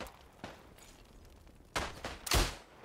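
World War I rifle fire in the shooter game Isonzo: a few sharp cracks spaced apart, the last two close and loudest, over a low ambient bed with no talking.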